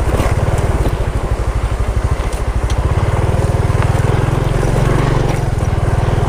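A Honda XRM Fi motorcycle engine hums with a steady, rapid low throb on a trail ride, holding a continuous drone that rises slightly in pitch partway through, with wind noise around it.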